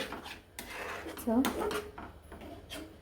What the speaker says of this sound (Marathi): आपण हे सर्व परतून घेणार आहोत छान एकसारखं मिक्स करून घेणार आहोत आपलं पुरण आणि आंबे